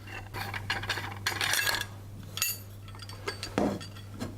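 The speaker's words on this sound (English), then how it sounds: "And then we take our cookie press and we unscrew it." A metal cookie press for chocolate shortbread is unscrewed by hand, giving scattered metallic clinks, scrapes and small ratcheting rubs over a low steady hum, close and fairly quiet, with no talking.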